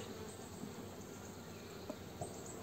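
Honeybees hum as a faint, even buzz at an open hive in March, with a couple of small clicks and taps over the steady drone.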